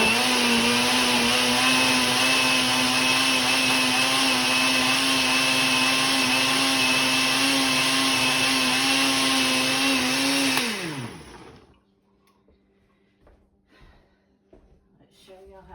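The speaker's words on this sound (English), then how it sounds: "and I've got it in here, and we're going to blend" A kitchen blender whirs loudly and steadily, blending fresh garden produce with coconut, a close, constant motor whine that runs for about ten seconds and then winds down, followed by faint clinks and handling sounds.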